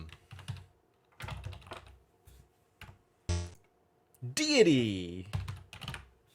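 Bursts of typing on a computer keyboard while playing a word game, clicking keys in short runs between spoken words from a nearby voice.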